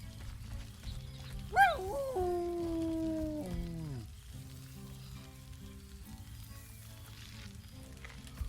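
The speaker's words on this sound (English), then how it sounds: "Scratch barks merrily in something like agreement" Scratch the dog in Baldur's Gate 3 gives one merry bark that stretches into a drawn-out whine, near and clear over a low, steady background hum.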